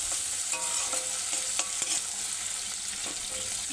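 Potatoes fry for aloo bhaja in a home kitchen pan, a steady close sizzle with occasional scrapes and taps of a utensil stirring, no voices.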